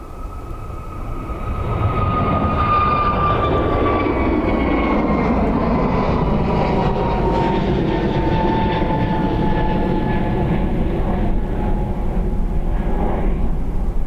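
Airliner taking off from the north runway at Dublin Airport, a loud, steady jet engine roar building within two seconds and holding, with a descending whine and broadband rumble as the aircraft passes.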